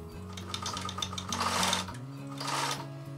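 A sewing machine backstitching through a thick quilted stand mixer cover, a close, steady rapid whirring hum with fast needle ticks, shifting pitch briefly as direction changes, with no speech.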